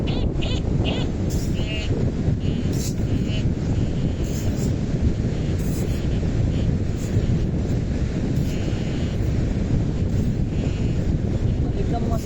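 Strong wind buffets the microphone on Tarkarli Beach at sunrise, a loud continuous low roar with gusts throughout, along with surf in the background.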